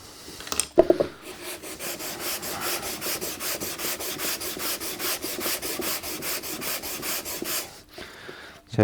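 A small wooden box is hand sanded with abrasive in steady, rhythmic back-and-forth strokes, close and continuous for several seconds after a brief knock.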